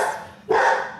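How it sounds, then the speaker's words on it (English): A dog barking in the background of a home kitchen, a single sharp bark after a moment of quiet room tone, moderately loud and slightly distant. "barking in the background"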